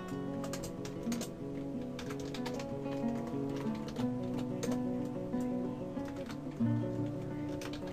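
Clicks of a computer keyboard, which is acting up, typed on while playing Dwarf Fortress: quick, uneven taps over steady tonal game music, with no talking.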